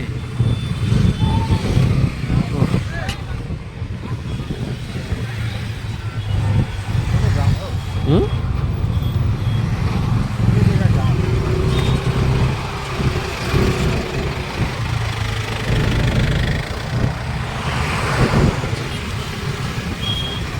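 Engines rumble and idle in slow, congested evening road traffic nearby in Darjeeling, held up by a large vehicle, with occasional passing vehicles and motorbikes and people talking over the steady drone.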